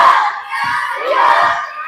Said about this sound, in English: HCS cheerleaders getting the crowd involved in the cheering.